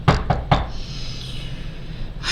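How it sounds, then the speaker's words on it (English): Three sharp knocks on wood in quick succession, close and fairly loud, followed by a quiet room tone. "knock on wood"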